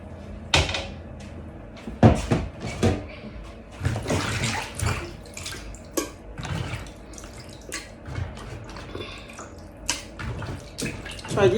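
Tap water runs and splashes steadily over beef being washed in a kitchen sink for groundnut soup, with occasional clatter and knocks from handling the meat and bowl.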